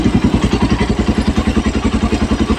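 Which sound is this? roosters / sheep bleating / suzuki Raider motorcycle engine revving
suzuki Raider motorcycle engine revving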